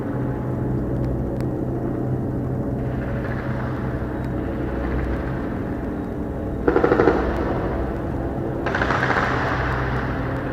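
Sustained rattling gunfire with a low rumble, steady bursts of shooting that grow louder and harsher in the second half.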